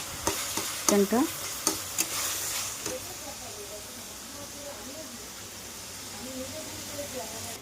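Chicken pieces dropped into a pan of fried masala and stirred, with loud clattering spatula scrapes at first, then a steady sizzle and hiss while the pan cooks.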